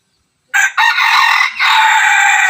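A captured labuyo junglefowl rooster crows once after brief silence, a loud, close, shrill call in two or three broken segments lasting about two seconds.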